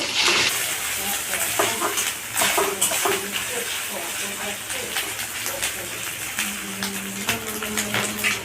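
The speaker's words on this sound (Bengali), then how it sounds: "আমি নারকেল কুচিগুলো প্রথমে ভেজে নেব।" Chopped coconut fries in oil in a wok, giving a steady, close sizzle with stirring scrapes and a few clinks of utensils on the pan throughout, with no talk.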